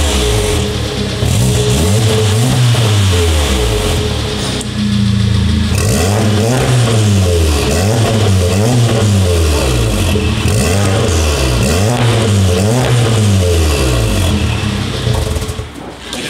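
A VW GTI fitted with an Armytrix valved exhaust revs loudly and repeatedly up and down, close and strong, its droning engine note rising and falling in rhythmic sweeps.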